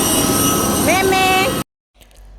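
Steady broadband engine roar fills an airplane cabin before takeoff, with tonal whines rising and shifting midway, then cutting to near silence before a softer, quieter hum returns; voices murmur faintly beneath the drone.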